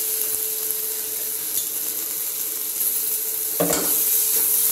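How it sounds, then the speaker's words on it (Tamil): Tomatoes sauté in a hot pan for rasam, a steady close sizzle running throughout with one brief stir or scrape near the end, no voices. "இந்த தக்காளி வந்து நல்லா வதங்கணும்"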